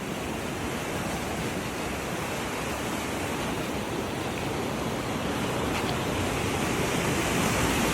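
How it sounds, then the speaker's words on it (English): Fast-moving water rushes past in a continuous loud, noisy roar that builds slightly toward the end, with no talking. "Water's really going here."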